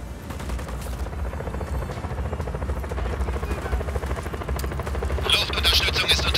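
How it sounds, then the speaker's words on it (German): A helicopter in the video game Just Cause 4 thrums with a steady rotor chop amid gunfire-like bursts, a dense continuous roar with sharper crackling hits toward the end. "Ich hab hier einen Heli auf dem Schirm."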